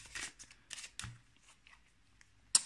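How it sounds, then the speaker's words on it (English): Playing cards riffled through an overhand shuffle, giving several soft papery flutters and slaps in short bursts, close and fairly quiet, ending in a sharper snap. "The right overhand shuffle is done like this."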